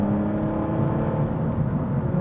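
A car with a 7-speed manual gearbox accelerates under part throttle, its engine drone rising steadily and loudly from inside the cabin, with no shift break in this short stretch and no voices.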